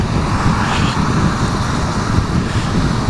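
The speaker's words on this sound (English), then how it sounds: "that's a lot of wind" Strong wind roaring into a microphone while riding at about 50 kilometers per hour in stormy weather, loud steady broadband buffeting throughout with no talk.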